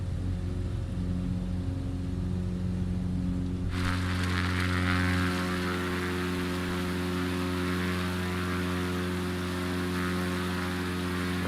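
Propeller airplane in flight in Flight Simulator 2020, a steady loud droning engine hum with strong tonal harmonics that shifts to a brighter, fuller roar partway through, continuous throughout with no talking.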